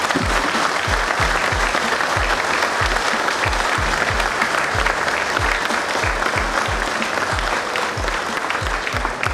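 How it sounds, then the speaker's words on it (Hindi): Applause from a bank's audience at a morning programme marking Bank Day and a circle's golden jubilee in Patna: steady, dense clapping from a large crowd, loud and continuous throughout with no voices over it. "एक बार ताली होने दीजिए।"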